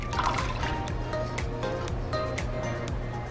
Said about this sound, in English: So next you pour your butter into your peanut butter.